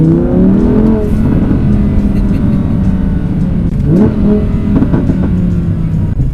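An Audi R8 Plus engine revs loudly and continuously while driving through a city in dynamic mode, its deep tone climbing and dipping with a sharp rise partway through, close up with no talking.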